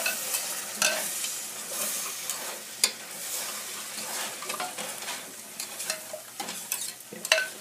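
Spoon stirring carrot juice into a sizzling sauce in a pan, soft scraping and clinking strokes over a faint continuous fry, close and quiet.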